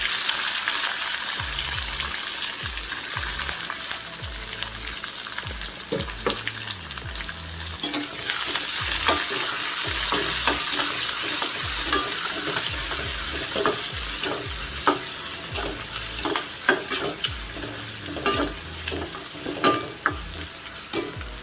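Onions and curry leaves sautéing in a pan for a Tamil-style carrot poriyal, a steady close sizzle with repeated scraping stirs that grow brisker toward the end, no talking.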